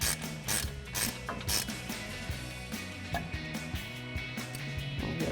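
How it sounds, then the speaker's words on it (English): A ratchet with a 19mm socket tightens the brake caliper bolts on a 2007-2021 Toyota Tundra. It gives close, rapid, loud clicking in repeated strokes with short pauses between turns. "we'll go ahead and get these tightened back down with our 19mm socket on our ratchet."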